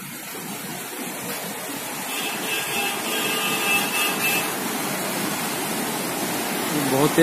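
A river rushes loudly below a bridge on the Ghansali bypass as a roaring, steady broadband wash, with a voice talking faintly over the continuous water noise.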